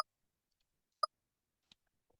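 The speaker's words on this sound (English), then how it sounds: "The next sound I have here is a menu toggle" A few faint, short digital clicks spaced apart in near silence, like quick interface blips when switching between options.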